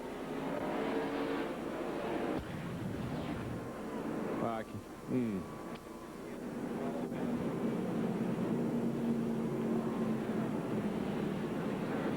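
A NASCAR race car in The Winston at Lowe's Motor Speedway, 2001, guns its engine leaving pit road, a steady roaring drone of race engines with a brief rising surge midway and commentary voices over the top.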